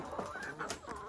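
A pet rooster clucks in a short run of low, throaty calls, close and fairly faint, with no voices over it.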